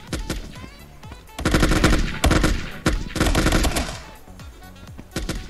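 Automatic gunfire in the mobile shooter game Fire Strike Online comes in several rapid, dense bursts separated by short gaps, loud and close, with faint voices barely present.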